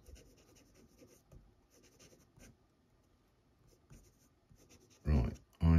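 A Jinhao 80 fountain pen scratches across paper in soft, irregular strokes, faint and close, followed by a couple of louder handling bumps at the end.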